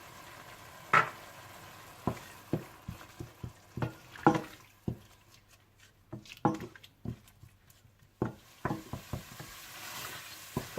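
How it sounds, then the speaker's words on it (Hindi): Red chili, cumin, coriander and turmeric powders with salt fry in a pan while a spoon stirs them, making scattered scraping clicks and knocks over a low, steady sizzle. "और साथ ही आप इसमें सुर्ख मिर्च पाउडर, जीरा पाउडर, धनिया पाउडर, हल्दी और नमक डालकर अच्छी तरह से भून लें।"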